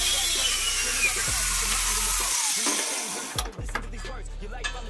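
Power tool cutting through the threaded end of an old worn mixer whisk, a steady loud high whine with a low motor hum that cuts out and restarts partway through, close and continuous.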